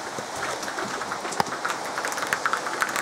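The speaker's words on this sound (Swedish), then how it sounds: "Nu ska jag visa er hur det regnar ute." Steady rain hisses outside with scattered heavier drips and patters standing out, no voices over it.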